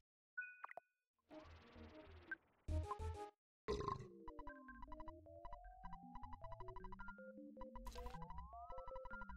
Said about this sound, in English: There's a dude burping in my ear!